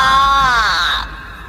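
A shrill, sustained scream of horror from an animated Hindi horror story about a coffin, loud and wavering for about a second before cutting off into quiet.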